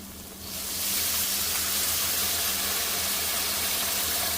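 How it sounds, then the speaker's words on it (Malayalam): Water is poured into a hot pan of clam curry masala and sets off a loud, steady hiss of sizzling steam that starts half a second in and holds to the end, with no voices. "നമുക്ക് ആവശ്യത്തിനുള്ള വെള്ളം ഒഴിച്ചു കൊടുക്കാം"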